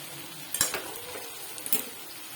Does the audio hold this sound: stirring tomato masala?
yes